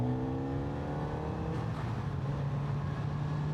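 A 2026 Kawasaki Z900RS motorcycle pulls hard while overtaking, its engine note climbing steadily in pitch, heard close and loud with wind rush and no talking.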